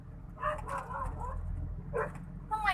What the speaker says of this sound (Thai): มันมาเห่า มันไม่เคยเห็นไง